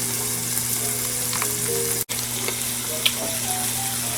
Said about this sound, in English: So, anyway, let's add our tomatoes.